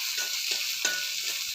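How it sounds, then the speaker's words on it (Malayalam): Sliced onions sauté in coconut oil with a dense, steady sizzling hiss and a few soft stirring knocks underneath, close by, cutting off abruptly at the end, with no speech. "ഉള്ളി വഴറ്റാൻ പോവുകയാണ്. വെളിച്ചെണ്ണ ഒഴിച്ചു. ഇനി അതിലേക്ക് മുറിച്ച് വെച്ച ഉള്ളിയും കൂടെ ഇടുകയാണ്."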